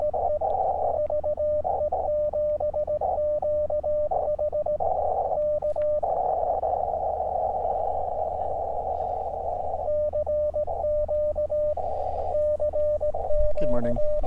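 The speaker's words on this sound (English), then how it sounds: "Pretend to send Morse code." An Elecraft KX2 radio gives off a Morse code sidetone, a steady pure beeping in bursts of short and long tones at an even keying rhythm, loud and close over faint background hum.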